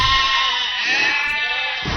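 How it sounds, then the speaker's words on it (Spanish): Sheep bleating loudly and continuously up close, a wavering, strained cry filling the whole two seconds. "La tranquilidad aparente que le permitía solamente escuchar los balidos de sus animalitos"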